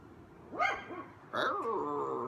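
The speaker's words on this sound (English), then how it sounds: "we've got dogs that clearly don't necessarily enjoy each other" Dogs on an apartment deck let out two short bursts of barking and whining yelps, close by and fairly loud, with a brief pause between them.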